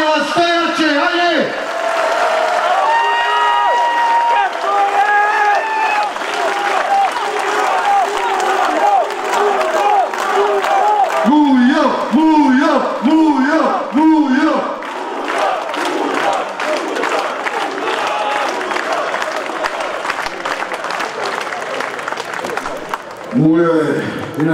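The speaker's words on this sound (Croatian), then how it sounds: "Ajmo jedan veliki aplauz, molim vas za Muju Magarovića" A large outdoor crowd at a street protest in Sarajevo bursts into sustained applause and cheering, dense clapping mixed with shouts and chanting voices, loud and continuous, with someone speaking over the amplified noise at times.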